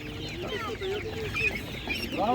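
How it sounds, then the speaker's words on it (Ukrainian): Many chickens cluck and squawk together at a crowded animal market, with faint voices mixed into the continuous din. "бачу, що курей є багато"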